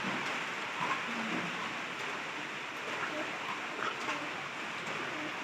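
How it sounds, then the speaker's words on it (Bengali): Pigeons kept indoors on a rainy day coo softly at close range, their low calls recurring over a steady background hiss of rain. "এটা আমার নতুন কবুতর"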